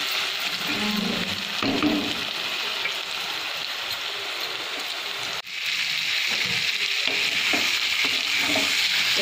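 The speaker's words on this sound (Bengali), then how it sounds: "এখন কষা হচ্ছে চিকেন" Marinated chicken and onions sizzling steadily in a hot pan while a spoon scrapes and stirs through them, a loud, dense frying hiss heard close up and alone, with a brief dip partway through.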